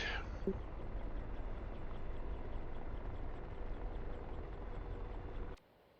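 An Apache helicopter in a combat flight game gives a steady rotor and engine drone that holds level, then cuts off abruptly near the end, with no talk.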